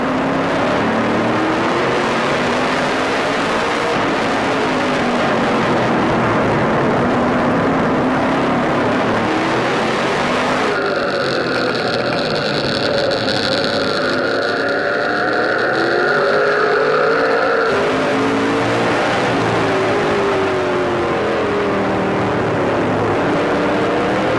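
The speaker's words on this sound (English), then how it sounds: "And Adam, let's have a listen to the Bowers and Wilkins sounds of the race." NASCAR Canadian Tire Series stock cars racing at the Wahta Springs 300, loud continuous engine roar with passing cars rising and falling in pitch, a brief shift in tone midway, no talk.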